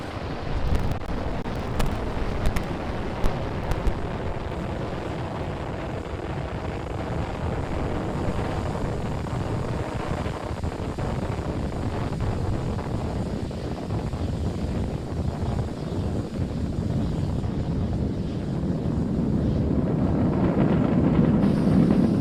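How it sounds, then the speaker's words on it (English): A SpaceX Falcon 9 rocket lifting off from pad 39A at Kennedy Space Center, a steady, heavy broadband roar with wind-buffeted rumble that holds throughout and swells toward the end, no voices. "Falcon 9 has successfully lifted off from our pad 39A at the Kennedy Space Center"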